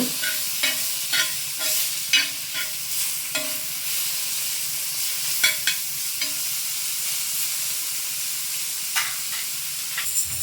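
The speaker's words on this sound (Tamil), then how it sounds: "அந்த ஒரு தக்காளியும் சேர்க்க போகிறோம் தக்காளி கொஞ்சம் நல்லா வதங்கி வரட்டு" Tomatoes sauté in a pan for chicken sukka, giving a continuous hissing sizzle with repeated light taps and scrapes of a stirring spoon spaced irregularly through the frying.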